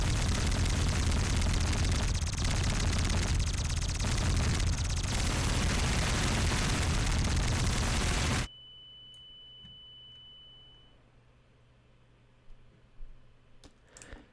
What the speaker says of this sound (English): it shoots an unlimited stream of explosions